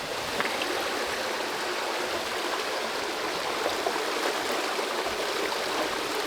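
A stream tumbles over small waterfalls in a wooded Scottish glen, a steady, bright rushing and splashing of water, close and continuous, with no voices.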